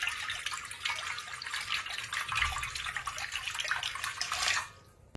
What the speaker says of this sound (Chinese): 然后再取一口锅，往里面倒入足量的清水